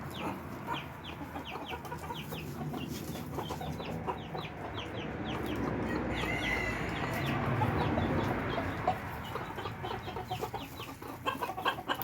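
A mother hen and her flock, including silky chickens and a chick, cluck in soft repeated calls nearby against a constant outdoor background hum.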